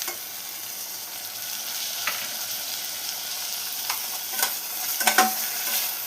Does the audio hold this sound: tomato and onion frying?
yes